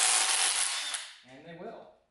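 Power tool spinning out exhaust manifold bolts on a Toyota 80 Series Land Cruiser 1FZ-FE engine, a loud, close, steady whir that winds down after about a second into a faint rattle.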